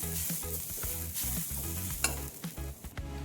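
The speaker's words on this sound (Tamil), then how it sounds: "அதையும் நல்லா வறுத்து எடுத்துக்குவோம் நல்லா அந்த ஈரம்லாம் போகிற வரைக்கும் வறுத்துக்கணும்" Rava and grated coconut dry-roasting in a pan for a coconut burfi, the spoon scraping in steady repeated strokes over a faint background sizzle, close and fairly quiet, with no voices.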